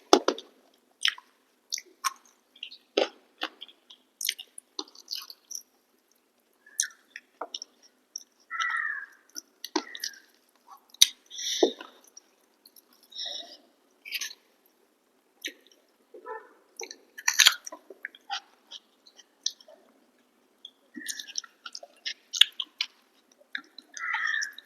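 Close, quiet chewing during a Bengali home meal of basmati rice, moong dal with bitter gourd and bottle gourd, fried bottle gourd peel and potato-pointed gourd posto: soft wet smacks and clicks come in sparse, irregular bursts.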